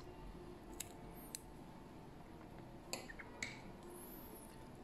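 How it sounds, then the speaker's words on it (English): Scissors snip a few times at close range while trimming excess material on a stonefly fly being tied, quiet isolated clicks spread through a faint background with no talking. "Now I'll cut the excess"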